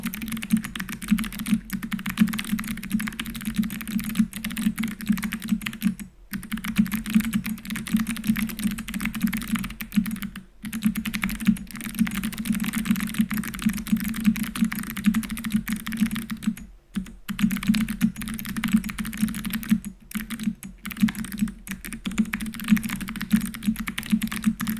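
Steady, continuous typing on an unusual mechanical keyboard fitted with novelty keycaps, with dense clacking keystrokes and a few brief pauses over a constant low hum, with no one talking.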